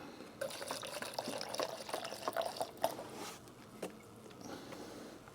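Diesel exhaust fluid pours steadily into a container with a bubbling, trickling sound, slowing and fading toward the end; no talking.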